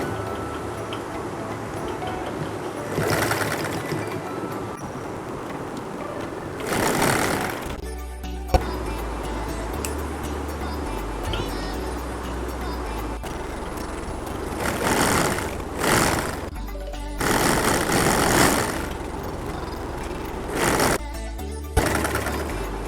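An electric sewing machine stitches a trouser in long, loud, even runs of rapid mechanical ticking, pausing briefly between seams before starting again close up.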